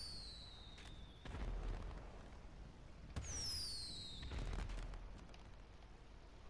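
In GTA 5, two whistling New Year firework rockets streak upward with descending whines, each followed by crackling bursts and muffled booms, fairly faint.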